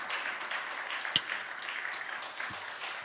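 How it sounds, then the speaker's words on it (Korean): A congregation at a Korean Friday prayer service claps in warm, steady applause for a few seconds, fairly soft and diffuse in the hall, with no speech over it. "자, 박수해 주시면 받겠습니다."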